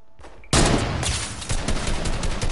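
Dense automatic gunfire rattles through a Fortnite match, bursting in loudly after a brief lead-in and continuing as a sustained, overlapping barrage with no talk over it.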